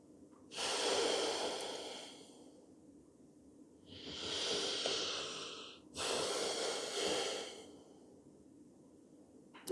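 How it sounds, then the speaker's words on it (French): Three slow, deliberate yoga breaths during a back-stretching session, each a long airy inhale or exhale lasting a second or two, close and quiet, separated by silent pauses, with no talking. "Et ici, on vient respirer."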